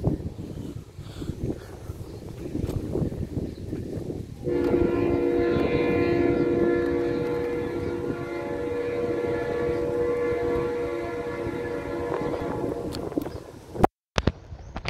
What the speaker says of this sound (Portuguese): Vocês viram o trem passando, que emocionante.